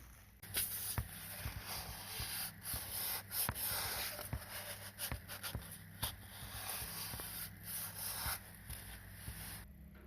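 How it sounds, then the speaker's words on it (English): A rag wipes the engine sealing surface of a Honda CBR400RR NC29 motorcycle clean during an oil change. Close, steady rubbing strokes repeat in an uneven rhythm. "Next, you need to take a rag to the sealing surface and wipe it clean."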